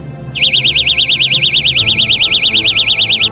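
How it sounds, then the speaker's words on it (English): A loud, piercing electronic alarm from a car escape tool warbles rapidly up and down, starting abruptly and holding steady for about three seconds before cutting off. "a burglar alarm that makes a loud noise to scare off an attacker"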